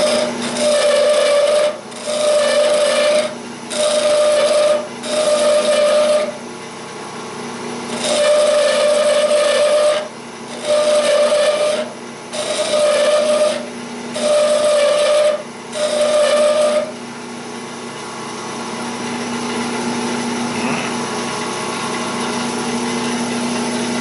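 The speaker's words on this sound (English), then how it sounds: "I'm just trimming off the end with the flat side of the skew." A skew chisel trims the end of a wooden file handle spinning on a lathe, making a run of rhythmic rasping scrapes. They come as two groups of short passes with brief gaps between, loud and close, and the lathe keeps humming quietly afterward.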